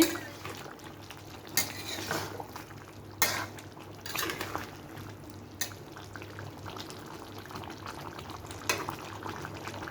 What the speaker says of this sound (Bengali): ঢাকনা উঠিয়ে দেখে নিচ্ছি আমি আরও দুবার ঢাকনা উঠিয়ে দেখে নিয়েছি এবং নেড়ে নিয়েছি